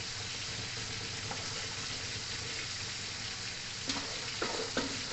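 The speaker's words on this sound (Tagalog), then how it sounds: "Ayan, nagpiprito na po." Fish frying in a pan for a Filipino meal, a steady close sizzle filling the clip with a few sharper pops and crackles near the end.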